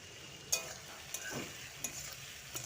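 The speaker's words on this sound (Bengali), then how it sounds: "আলুটা একটু ভেজে নিচ্ছি। লবণ আর হলুদ দিয়ে আর একটু ভেজে নেব।" Potato pieces fry in a pan with salt and turmeric, a faint low sizzle broken by a few scattered stirring scrapes and clinks, quiet and close, with no voices.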